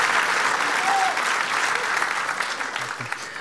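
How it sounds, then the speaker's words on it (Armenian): A studio audience at a comedy show breaks into sustained, dense applause that slowly tapers off, with a voice faintly audible underneath. "ծափարեք ինքներդ ձեզ"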